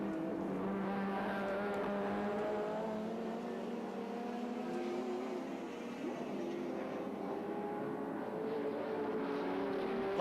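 A small Mazda touring car on soft compound tyres drones at a fairly steady pitch, shifting slightly as it runs through a corner at Sandown circuit in 1984, heard at moderate distance.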